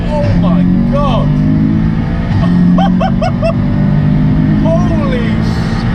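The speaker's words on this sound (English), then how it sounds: "It's actually still got the really nice gravelly German power sound, hasn't it?" A 530bhp Audi S3 accelerates with a gravelly engine drone rising through gears, loud and close from inside the cabin, while excited voices talk over it.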